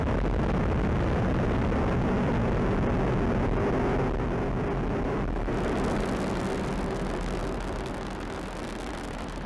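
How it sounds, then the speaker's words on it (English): Atlas V rocket lifting off on the AEHF-4 launch, a steady, loud broadband roar filling the whole span, rumbling and sustained, easing slightly toward the end with no voices. "We have ignition, 2, 1, and liftoff of the AEHF-4 mission carried by United Launch Alliance Atlas V rocket"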